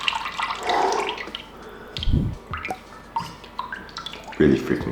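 Cold water splashes and gurgles as a person goes under in a tub, with a few sloshing bursts and drips, close by and mixed with breathy vocal sounds.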